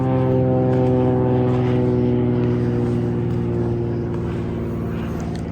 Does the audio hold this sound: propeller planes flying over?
yes